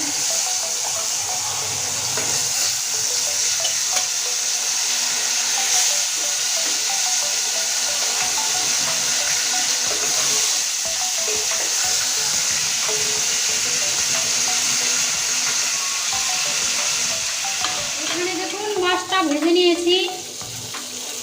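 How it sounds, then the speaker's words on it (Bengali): A rohu fish head fries in a wok with a loud, dense, steady sizzle and crackle throughout, joined near the end by a brief burst of clatter and a higher-pitched tone; no one speaks. "এখানে আছে মাছ রুই মাছের মাথাটা আগে দিয়ে দিচ্ছি"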